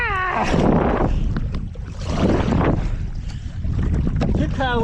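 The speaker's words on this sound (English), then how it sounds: "Keep paddling." Kayak paddles splash and dip in the water on a boy's kayak excursion, with bursts of wind and sloshing that rise and fall in surges, while voices call out between strokes.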